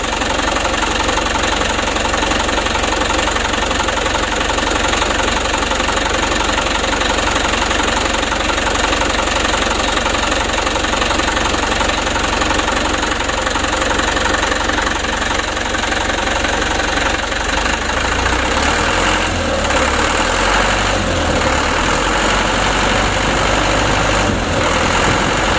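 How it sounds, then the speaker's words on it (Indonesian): Diesel engine idling steadily and loudly after a repair to its Bosch injection pump, with a dense continuous rumble and a slight knocking unevenness, and a brief change in the low tone near the end. "digas pelan agak meresap sedikit, ada goyang sedikit"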